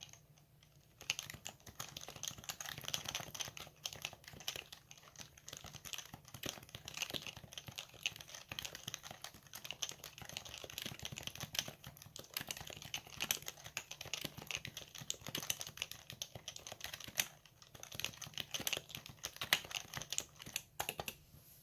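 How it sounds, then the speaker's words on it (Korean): Gentle, light typing on an unlubed Happy Hacking Topre keyboard, soft, quick keystrokes in an uneven continuous stream, close up with no talking. "약간 살살 타건해 보도록 하겠습니다"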